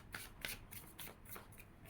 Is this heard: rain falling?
no